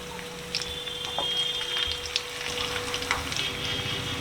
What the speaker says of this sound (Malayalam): ചിക്കൻ പൊരിച്ചെടുക്കാനായിട്ട് മീഡിയം ഫ്ലെയിമിൽ വെച്ച് പൊരിച്ചെടുത്താൽ മതി.